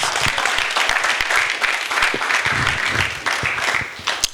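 A church congregation during a sermon claps their hands, a fairly close burst of many overlapping claps with some distinct sharp individual strikes, steady for several seconds before thinning out.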